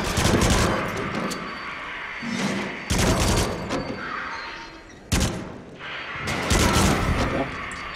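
Bursts of heavy gunfire from the shooting game Until Dawn: Rush of Blood, loud and close, come in several rapid volleys separated by brief lulls, with booming thuds mixed in.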